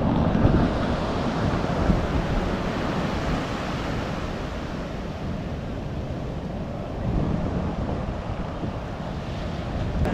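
Ocean waves on the beach at Puri near Swargadwar, a continuous broad surf roar with steady wash and wind buffeting the microphone, loud and unbroken, with no voices.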